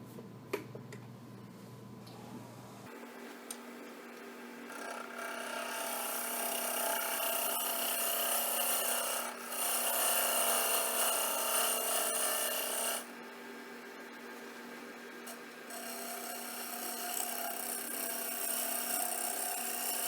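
A wood lathe spins a three-corner bowl blank, holding a steady broadband whir and rasp of tool on wood for most of the span, with brief dips and changes in tone and no talk.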